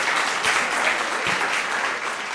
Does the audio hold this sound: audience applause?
yes